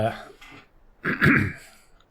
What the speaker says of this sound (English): struggling to clear my throat today